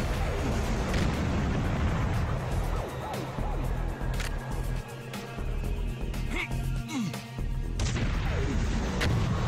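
High-explosive blasts go off in Duke Nukem: Manhattan Project, heavy booms and rumbling crashes layered with game effects, loud and nearly nonstop.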